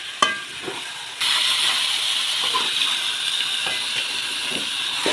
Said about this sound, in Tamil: நல்லா எண்ணெயிலே கொஞ்சம் நேரம் வதங்கட்டோமுங்க ஒரு 10 நிமிஷம்